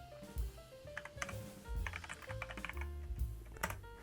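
Soft tapping of keys on a computer keyboard as a value is typed in, a quick uneven run of close, faint clicks over a low background hum.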